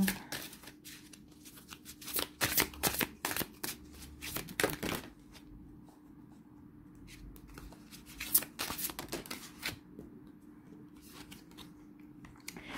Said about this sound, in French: Allez, une carte pour les Verseaux.